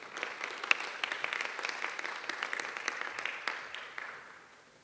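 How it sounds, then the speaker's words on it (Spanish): A university debate audience in Chiclayo applauds to welcome the Faculty of Medicine coordinator, steady hand clapping from a room of people, moderately distant, holding for several seconds and then tapering off at the end. "el doctor Jean-Pierre Sánchez Castillo, para el cual pedimos fuertes aplausos."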